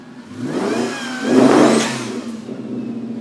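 Twin-turbo engine of a 1967 Ford F100 revving at a car show, a loud nearby rising rev that peaks, drops and then settles into a steady running drone.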